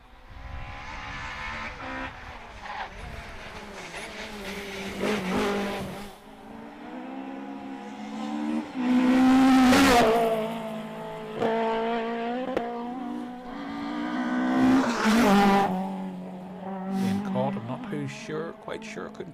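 High-revving rally cars scream past one after another on tarmac at the Galway International Rally, rising and falling as each approaches and fades, with a commentator talking throughout.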